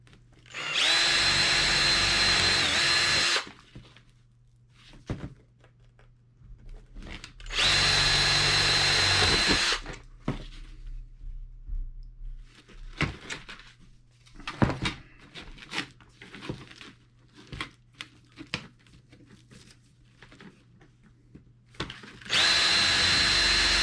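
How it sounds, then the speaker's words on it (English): A power drill bores out rivets on a 1991 Lotus Esprit moon roof runner in three loud, sustained whining bursts of a few seconds each, separated by quieter clanks and handling noises. "Try to drill out the rivets today."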